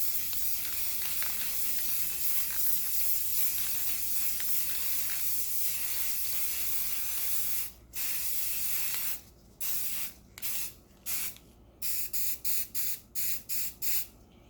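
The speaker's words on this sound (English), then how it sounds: "so now I'm gonna spray paint it" A spray can sprays paint onto a tumbler in a continuous loud hiss for several seconds, then breaks into a series of short, rhythmic bursts with brief pauses between them.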